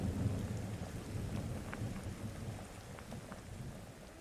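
A steady rainstorm hisses with dense drops while low thunder rumbles and rolls beneath, fairly loud and continuous without any voices.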